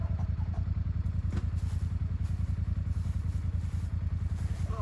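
Motorcycle engine running rough at close range, a fast uneven chugging with loose mechanical clatter, misfiring like a bike struggling after a stall.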